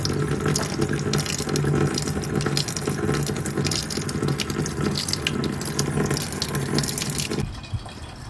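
Coolant drains from a C5 Corvette engine during a water pump and thermostat job, a steady gushing trickle of liquid running continuously into a container, close and moderately loud, stopping abruptly near the end.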